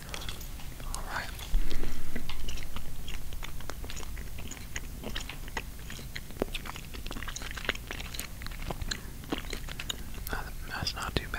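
Spearmint gum chewed close to the microphone during a basketball video game session, with wet clicks and smacks in an irregular rhythm and soft whispered talk running underneath.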